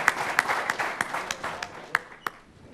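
Audience applause for football coach Marv Levy at a Hall of Fame event, a dense round of clapping with sharper individual claps standing out, steady and then tapering toward the end.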